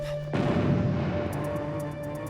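An explosion in a Huntik animated episode hits suddenly as a loud, close boom, then its rumbling debris settles over a couple of seconds.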